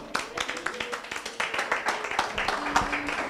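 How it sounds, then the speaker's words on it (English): An audience at a live-streamed baking event claps steadily and briskly in a dense, ongoing patter of many hands, with a voice faintly present underneath. "I might reward someone for the most enthusiastic clapping at this rate"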